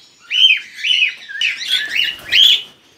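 Young cockatiels in an aviary give a run of bright, repeated chirping calls, about six close whistled phrases in quick succession with no talking.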